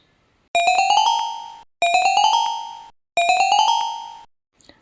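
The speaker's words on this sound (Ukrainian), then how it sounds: "Це звук металофона." Three bright metallic runs of quick struck notes climbing in pitch, each ringing out and fading before a short pause, clear and fairly loud.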